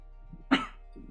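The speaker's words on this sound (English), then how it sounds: "I'm just gonna cough real quick." A single short cough, fairly quiet and close, against a faint hum.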